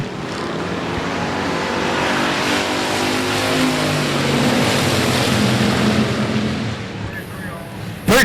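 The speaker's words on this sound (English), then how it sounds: "Chad Miller leading around quickly down the back straightaway" Race cars roar down the back straightaway at I-37 Speedway, a sustained loud engine rush that swells and holds for several seconds before easing off, with crowd and track noise behind.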